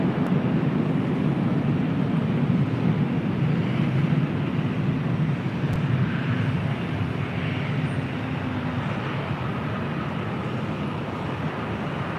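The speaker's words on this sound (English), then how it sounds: "That's A319, next departure at 24 left." An Airbus A319 airliner departing runway 24 left at LAX gives a broad, steady jet roar heard from a distance, holding a low rumble throughout and fading gently toward the end.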